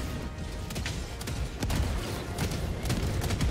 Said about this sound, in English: The mortars literally do all the work for you